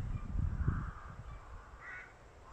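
Rooks calling from a rookery high in the trees, a couple of harsh caws standing out over a steady outdoor rumble, fairly distant and moderately loud.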